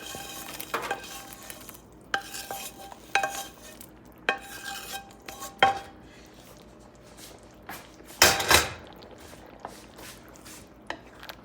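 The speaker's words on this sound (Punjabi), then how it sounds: "ਪਨੀਰ ਇਹ ਪਾ ਦਾਂਗੇ" Fried paneer cubes go into a pan of masala for paneer masala, followed by scattered stirring scrapes and clinks with one louder burst of clatter and sizzle near the end.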